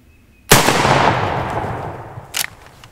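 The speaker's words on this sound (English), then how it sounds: "Lance, don't shoot the head" A shotgun fired at a turkey during a spring hunt, one sharp loud blast that booms and slowly rolls away into the woods, followed by a short rustling thump, with no voices.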